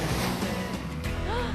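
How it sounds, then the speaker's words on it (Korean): Ocean waves at a beach roll in as a steady, close roar of surf and wind noise, with faint background voices and other sounds layered over the wash. "파도 소리가 좀 무서운가 봐."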